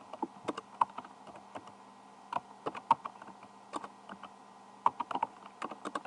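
Irregular clicks and clacks of typing on a computer keyboard, in scattered bursts with short pauses, fairly close and moderately quiet, with no talking.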